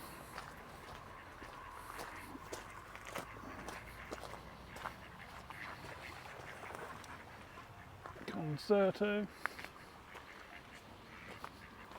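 Ducks quacking along the riverbank near Ludham Bridge, with a short, fairly close burst of several quacks late on, over outdoor ambience, footsteps and brief talk.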